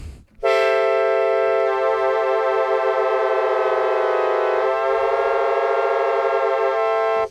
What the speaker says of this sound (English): So when you affect the A tuning knob over here, you can create detuning.